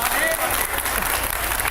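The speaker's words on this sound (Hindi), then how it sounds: "इस बात पे तालियां होंगी क्या?" Audience applause at a spiritual discourse by a Hindu religious preacher, a steady dense clapping that fills the whole short stretch at a fairly loud, even level with no pauses.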